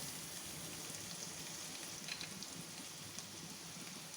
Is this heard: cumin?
yes